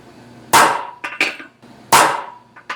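Hammer blows on a center punch marking metal, two sharp ringing strikes each followed by lighter taps, close and loud with no talk.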